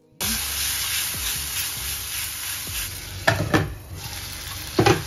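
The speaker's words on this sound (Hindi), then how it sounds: "अब हम इसमें डाल देंगे टमाटर।" Tomatoes stir-fried in a hot pan give a loud, steady sizzle throughout, with a few sharp scrapes and clatters of the spatula near the end.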